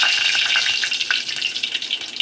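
Mustard seeds crackling and spluttering in hot oil in a pan on the stove, a dense, steady hiss of bright pops close up with no talk.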